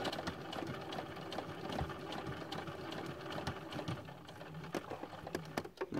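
A sewing machine stitches a seam joining black and pink jersey fabric, running in a busy, uneven mechanical whir with small clicks and knocks, close and moderately quiet.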